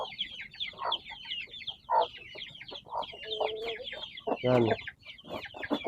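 A hen clucks steadily in a yard while her chicks cheep in rapid high chirps all around her, close by, with one brief spoken word.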